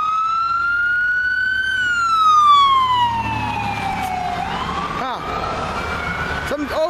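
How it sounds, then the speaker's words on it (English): Two fire trucks and an ambulance pass with loud wailing sirens that sweep up and down in pitch, a steady road rumble beneath, while a voice speaks faintly. "we got a fire truck, two fire trucks going out there, and an ambulance"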